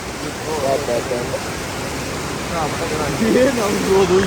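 A fast river rushes close by near Badrinath temple, a loud, steady roar of flowing water, while people talk over it.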